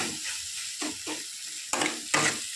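Spices sizzle and fry in a pan as roasted ground cumin is added, with several loud scraping stirs of a spoon against the pan; close and clear, with no talk.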